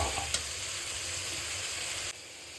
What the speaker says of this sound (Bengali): সমস্ত একটু ভালো করে কষাবো আবার কাঁচা গন্ধটা যতক্ষণ না যাচ্ছে ততক্ষণ একটু কষাবো